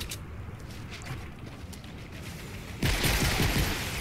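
Pistol fire in the video game Fortnite Save the World: a burst of rapid, loud shots erupts late in the clip after a stretch of steady background game noise.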